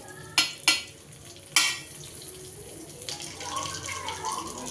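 Butter goes into a hot pan for a Telugu bottle gourd dal and starts to sizzle. A few sharp clanks of a utensil come first, then a low crackling frying hiss builds. No one speaks.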